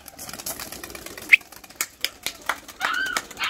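Wet tumbler pigeons take off from a large loft facility, giving scattered bursts of wing flapping and clattering, near and irregular, with a few faint chirps and background noise.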